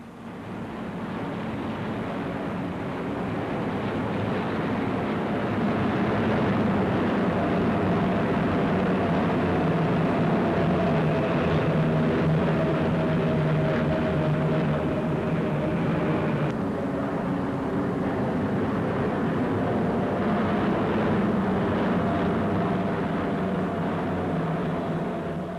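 Lancaster bomber aircraft engines drone steadily through a test flight, a continuous loud, dense roar with no pauses and no voices.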